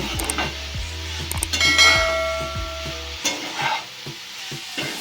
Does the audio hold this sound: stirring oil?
yes